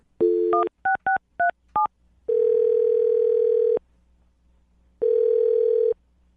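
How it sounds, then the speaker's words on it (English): Touch-tone keypad beeps as a phone number is dialed on a telephone, a quick series of short, clear DTMF tones followed by two long steady ringback tones separated by a pause, loud and close with no voices. "I'm going to dial his phone number right now."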